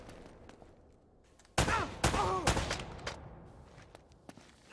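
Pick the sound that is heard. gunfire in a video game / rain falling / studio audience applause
gunfire in a video game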